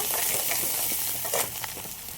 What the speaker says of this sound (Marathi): आता परतून घेऊन मस्त कांदा लाल होईपर्यंत.